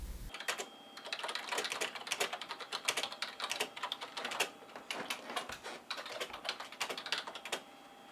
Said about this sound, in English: A successful action film writer types away at his computer.